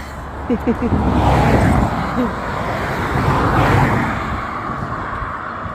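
Steady stream of cars passing on a highway beside a narrow bridge, a continuous broadband road roar that swells and fades as vehicles go by, with brief voices in the background.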